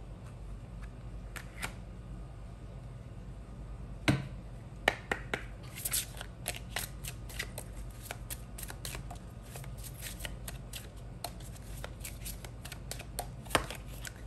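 Tarot cards being shuffled close up in a quiet room, repeated soft riffling and card-slapping bursts scattered over a low steady background hum.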